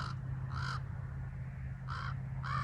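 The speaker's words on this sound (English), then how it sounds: "the roosters and the crows woke me up" Crows cawing outdoors at a Nevada winery in the mountains, two pairs of loud, harsh caws separated by a pause, over a steady low hum.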